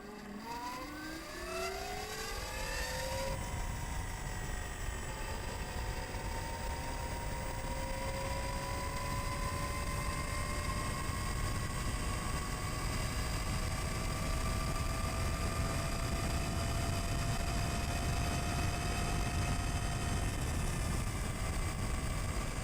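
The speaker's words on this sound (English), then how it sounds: "you can hear the distinctive whir of the motorcycle" A Zero FXS electric supermoto's motor whirs close by, a rising tonal whine that climbs in pitch then holds steady over a broad rushing noise for about twenty seconds, without any talking.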